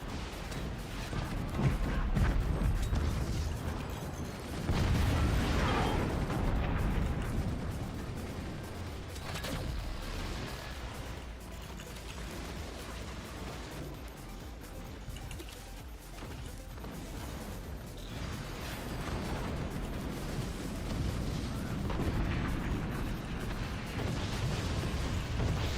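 Rocket and sniper counter shots in the strategy game Forts, a muffled rumble of explosions and impacts that swells and fades across the span, with dull booms layered over a constant low battlefield roar.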